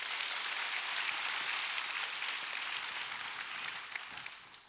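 An audience at a public university science lecture on AI and proteins in Seoul applauds the lecturer, a dense, even wash of many hands clapping continuously throughout, fairly distant and steady.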